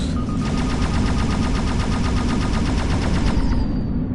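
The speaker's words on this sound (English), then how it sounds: "Whoa, frantic missiles" Rapid volleys of missiles launching in a space battle in the VR game End Space on PS4, a dense, steady rattling barrage of bursts for about three seconds over a loud low rumble, ending in a fading streak.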